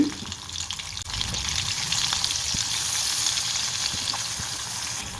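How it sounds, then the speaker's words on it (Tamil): Dried fish frying in hot oil over a low flame, a steady, close sizzle and crackle with a few soft pops that holds for the whole stretch, with no voices. "நம்ம கழுவி வச்சுருக்க கருவாடை ஒன்று ஒன்றா சேர்த்து இதை லைட்டாக பொறிச்சு எடுத்துக்கலாம்"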